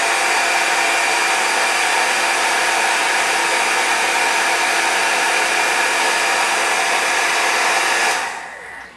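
A heat gun melting ultra thick embossing powder blows with a steady, loud, continuous whoosh for about eight seconds, then cuts off abruptly, with no voices.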